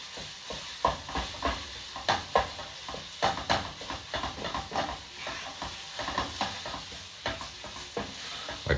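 A cooking pot rattles and clangs on an uneven stovetop while stuffed peppers cook, giving irregular metallic knocks and scrapes over a steady sizzle, close and moderately loud with no talking.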